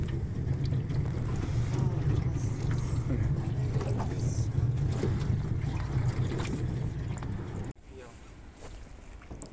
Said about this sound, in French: On entend la mer derrière.